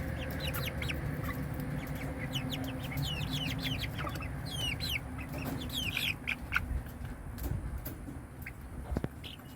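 Young Sapphire Gem chicks crowded in a brooder keep up a continuous chorus of high peeping and soft clucking, close and moderately loud over a low steady background hum.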